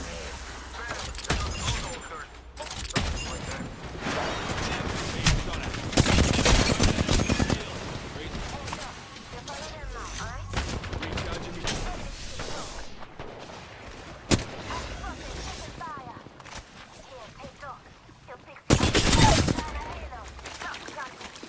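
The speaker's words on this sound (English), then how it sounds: "They're shooting at me." Gunfire in an Apex Legends battle royale match: repeated bursts of automatic shots and single cracks, loud and close, arriving in clusters with short pauses between, mixed with game voice lines and player chatter.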